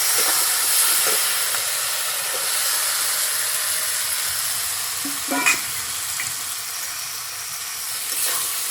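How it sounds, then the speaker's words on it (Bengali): Boiled potatoes sizzle in hot spiced oil in a home kitchen, while the oil gives a steady broadband frying hiss and a few brief stirring knocks. "মশলাটাকে তেল ছেড়ে দিয়েছি, এখন দিয়ে দিব সিদ্ধ রাখা আলু"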